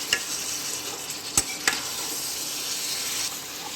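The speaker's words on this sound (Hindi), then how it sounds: "गोल मिर्च जब भुना हो गया पेस्ट 1 चम्मच डालेंगे। थोड़ा देर चलाएंगे इसको।" A spoon stirs black pepper paste frying in a pan while cooking chicken, giving a steady close sizzle with a few sharp scrapes against the pan, and no voices.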